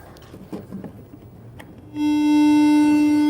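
A TI sound chip device plays its random startup tones: after a couple of seconds of quiet room noise, steady sustained electronic tones come in abruptly and hold at a constant, fairly loud level.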